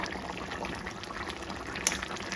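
A pot of mutton curry bubbles and simmers steadily at close range, with continuous soft boiling gurgles and one brief sharper clink near the end.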